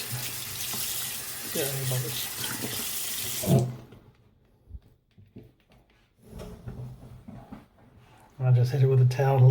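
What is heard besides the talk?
water tap running while rinsing a watch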